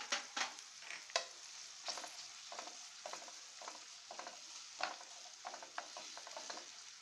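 Ginger garlic paste fries with chopped onion and green chillies in a pan, a quiet, close sizzle punctuated by repeated spatula strokes and scrapes.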